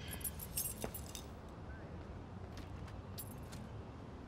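Keys jangle in the video game Life is Strange: a few faint metallic clinks and rattles, quiet and scattered over a low background hum.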